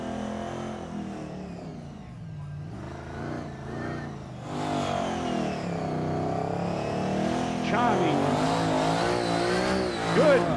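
A loud blown engine revs and roars through a burnout competition at Summernats, tires squealing over rising, wavering motor pitch, with crowd noise faintly underneath.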